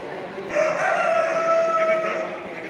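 A rooster crows once in a long, drawn-out call at a poultry fair exhibition in Castilblanco, sounding clear and fairly close against a murmur of background hall noise.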